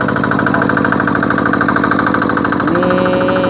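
A Quick Amberjack rotary hand tractor engine runs steadily in a field, a loud, close, chugging mid-pitched drone with a fast regular pulse and no talk, its tone shifting slightly near the end.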